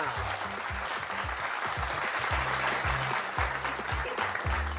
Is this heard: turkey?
no